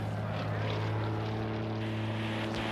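A propeller airplane drones steadily with a low, even engine hum and harmonic tones, holding constant volume throughout without pause.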